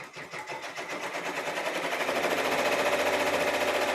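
A sewing machine runs flat out at about 1,000 stitches per minute, a fast, even mechanical chatter that builds in the first seconds and then holds steady and loud, with no talking.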